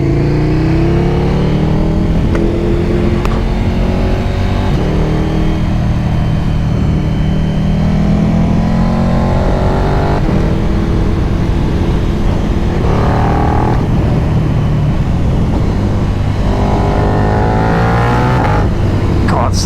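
A KTM 1290 Super Duke R naked motorcycle, a roughly 1300cc engine, revs loudly and continuously as it works through the gears with auto-blipped downshifts, the pitch climbing and falling in repeated sweeps, heard close up amid wind noise.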